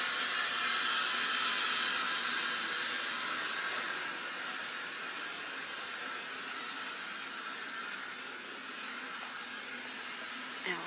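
An Allison V-1710 aircraft engine runs with a steady, broadband roar, loudest at first and then easing slightly to a constant level, with no talking.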